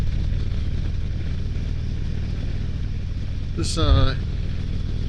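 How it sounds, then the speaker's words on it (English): Engine of a 2023 Harley-Davidson Road King Special 114 motorcycle, a steady low rumble running throughout with a brief louder burst near the end as someone speaks over it. "engine almost has like a pop to it."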